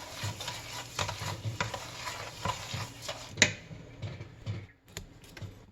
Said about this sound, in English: At this point, I'm going to stir constantly so that the sugar does not burn.